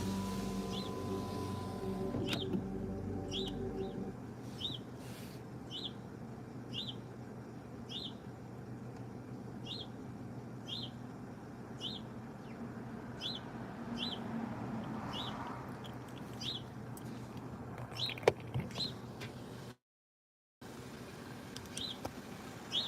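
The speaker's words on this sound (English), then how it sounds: "The birds are singing right now." Birds sing outside a window, a single high chirp repeating steadily at a moderate distance, faint over a quiet indoor hum with no talking.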